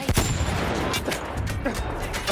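Battlefield 1 gameplay brings rapid gunfire and sharp blasts with a grenade explosion in a dense, loud battle din, several reports in close succession near the start and more shots throughout.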